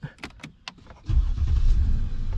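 A Mercedes S550 engine cranks and fires up with keyless go, a few brief clicks and a starter whir giving way to a loud, steady idle rumble close by.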